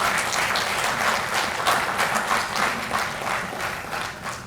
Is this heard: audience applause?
yes